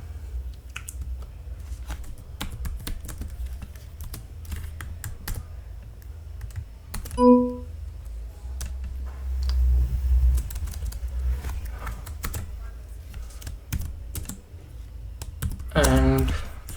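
Close, crisp keystrokes on a computer keyboard come in irregular bursts of typing, with a few louder key presses such as Enter standing out.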